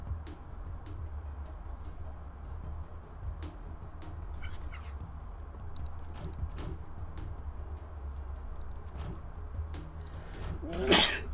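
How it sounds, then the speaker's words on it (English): A single loud human sneeze bursts out near the end after quiet background hum with a few faint clicks, close and sharp, alone without talk. "That was a heck of a sneeze right there."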